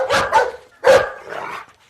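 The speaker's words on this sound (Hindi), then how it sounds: "अबे कुत्ते क्यों भौंक रहा है?" Dog barking from inside a car in a Hindi comedy film scene: three or four sharp, close barks in quick bursts with a short gap, loud and alone without speech.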